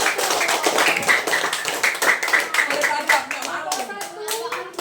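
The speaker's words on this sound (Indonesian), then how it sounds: "kita berikan tepukan yang paling kuat untuk Bapak Satu" A classroom of students claps loudly for a presenting group, brisk uneven hand claps close by with children's voices talking and calling out over them.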